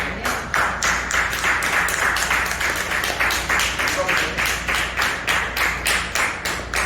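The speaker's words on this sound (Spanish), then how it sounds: "Denle un aplauso al Señor." Steady rhythmic clapping from a church congregation during a sermon on discipleship, many hands beating together in a regular pulse, loud and sustained throughout.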